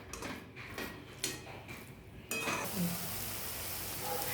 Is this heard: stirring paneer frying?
yes